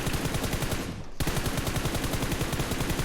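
Rapid automatic gunfire rattles in a shooter video game, two loud sustained bursts split by a brief pause, with no speech.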